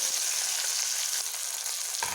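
Tomatoes added to oil with tempering spices hiss loudly in a pan, a continuous close sizzle with a brief stirring sound near the end.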